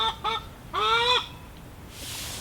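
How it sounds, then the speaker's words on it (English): Laying hens give loud, honking squawks: two short calls close together, then a longer drawn-out one, followed by quiet. No one speaks. "the chickens don't like me talking"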